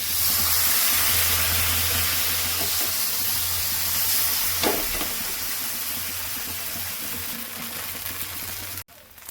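Batter sizzling on a hot oiled tawa, a steady loud hiss of frying that holds through most of the clip before cutting off sharply near the end, with no talking.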